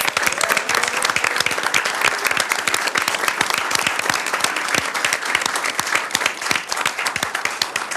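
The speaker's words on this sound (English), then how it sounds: "Well, give them a round of applause." A school board meeting audience gives a steady round of applause for students from a state championship team, dense overlapping claps filling the room at an even level throughout.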